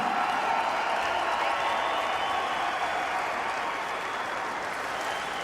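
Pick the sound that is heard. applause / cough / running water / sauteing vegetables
applause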